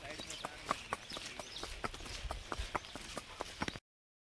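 A mare's hooves clip-clop in a quick, regular rhythm on hard ground, fairly faint, in light rain, with voices in the background before the sound cuts off abruptly.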